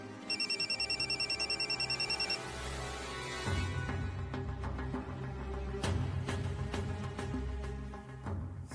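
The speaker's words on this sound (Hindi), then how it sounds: "स्नेहा फोन क्यों नहीं उठा रही?" A telephone rings in a fast repeating electronic trill for about two seconds, then gives way to background music with dramatic hits.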